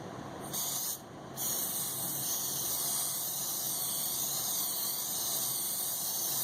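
A steady, close spray hiss from an aerosol can of spray glue, briefly interrupted once near the start before resuming continuously.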